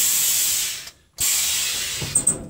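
Air suspension on a lowered custom truck with a front-and-back switch hisses loudly as it vents, a sustained close spray that cuts off briefly, resumes, then ends with a few small clicks and puffs.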